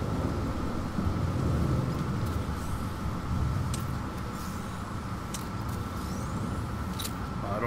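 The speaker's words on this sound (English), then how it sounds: "Alkaline rain." An alkaline rain storm with thunder in the video game No Man's Sky pours as a dense, steady rush of rain with low rumbling underneath and a few brief sharper crackles, continuous throughout.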